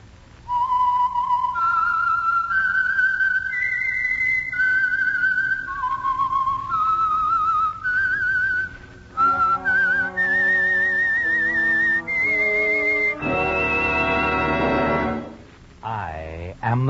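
A person whistles a slow, eerie tune of held, gliding notes, loud and close, ending in a rising swoop; the signal tune of the old-time radio program The Whistler.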